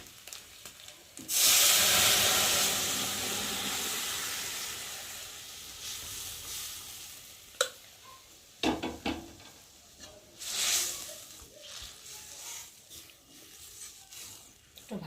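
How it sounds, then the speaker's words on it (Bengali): Chana dal hits a hot pan of fried ginger and cumin with a sudden loud sizzle that gradually fades into a softer hiss, followed later by a few clattering stirs of the pan. "ভালো করে ভেজে নিয়ে একটু আদাটা জিরেটা ভাজা ভাজা হয়ে গেছে কাঁচা গন্ধটা চলে গেছে আর এখন আমি ডালটা ঢেলে দেবো"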